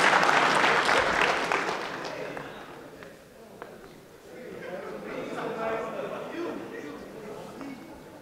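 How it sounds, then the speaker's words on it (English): Audience applause from a crowd at a talk, loudest at the start and fading over the first few seconds, then swelling again more faintly amid crowd noise and cheering toward the end. "All right, everybody give Elijah a round of applause."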